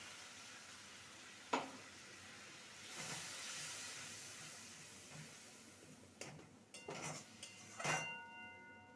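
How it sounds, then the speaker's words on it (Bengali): A cauliflower curry with sour yogurt is sautéed in a pan, then a little water goes in, giving a faint hissing sizzle with a brief steam surge and a few clattering utensil knocks toward the end; quiet, no talking. "ভালো করে কষিয়ে নেব আর দিয়ে দেবো সামান্য জল যাতে করে ধরে না যায়"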